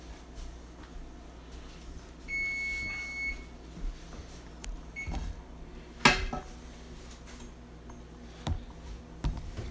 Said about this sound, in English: And the oven is beeping